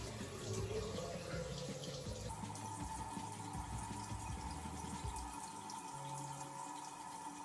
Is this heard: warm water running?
yes